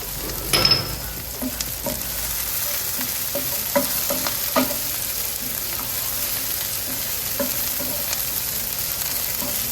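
Onion, chilli and ginger sauté in a pan for Sri Lankan sambal rotti, giving a steady close sizzle broken by scattered scraping and clinking stirs, with no voices.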